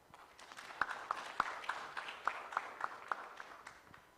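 Sparse, faint scattered clapping from an audience at a national legal aid conference on access to justice, a few sharper individual claps standing out over a quiet room.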